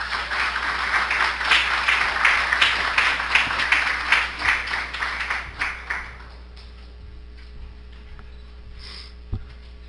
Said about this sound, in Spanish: demos un fuerte aplauso